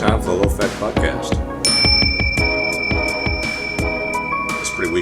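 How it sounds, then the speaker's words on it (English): A bell rings with a thin sustained tone at the opening of a podcast, ringing on for a few seconds beneath speech and scattered clattering sounds. "That's a pretty weak bell."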